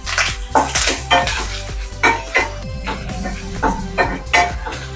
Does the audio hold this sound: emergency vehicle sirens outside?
no